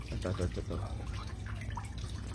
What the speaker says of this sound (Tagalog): So mao ni gimuan ko sang waterfalls para double purpose, mag-create siya oxygen diri sa dalom